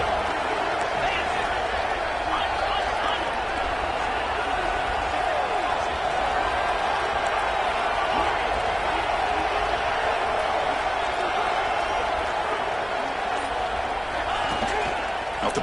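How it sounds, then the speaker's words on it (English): A football stadium crowd roars as a dense, continuous wash of cheering that holds at an even level for the whole stretch. "And here comes the crowd noise."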